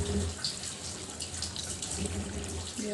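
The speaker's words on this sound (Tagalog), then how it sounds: "ilagay na po natin yung kanyang sabaw." Broth is poured into a pot of pinaksiw, a Filipino fish stewed in vinegar, making a steady, close splashing trickle of liquid that runs continuously with small gurgles.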